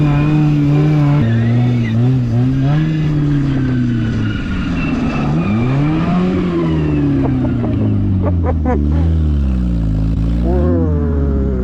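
A Ford Focus off-road on a durability test, its engine loud and close as it drones, bogs down and revs back up in shifting pitches, with people talking over it.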